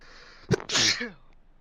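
One loud, close human sneeze with a sharp intake followed by a forceful burst, in a quiet room during an iRacing sim-racing endurance stream.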